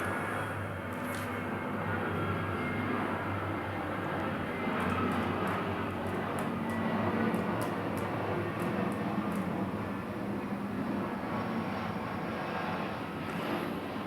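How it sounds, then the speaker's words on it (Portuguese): Airplane passing overhead, a continuous broad engine roar with a low rumble holding steady at moderate distance, outdoors near a house, with no talking. "Ó o avião."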